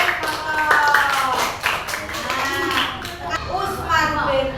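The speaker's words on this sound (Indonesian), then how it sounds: "tepuk tangan untuk kelompok Umar bin Khattab." Classroom applause for a student group reciting Quran verses, a few seconds of scattered hand clapping mixed with children's voices and chatter.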